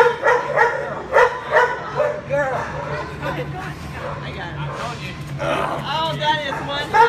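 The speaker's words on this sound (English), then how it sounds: "Oh, that is one happy dog." A very happy female dog greets her owner after seven months apart with excited yips, barks and whimpers in repeated bursts, close and loud, while people talk over her.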